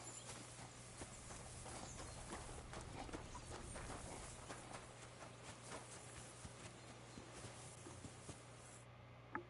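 Horses' hooves clip-clop at a walking pace in a video game, a steady run of soft hoof falls over a constant low background hum, with no talking.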